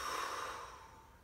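During home kickboxing drills, a person takes one audible breath: a close, airy inhale that fades over about a second, with no talk.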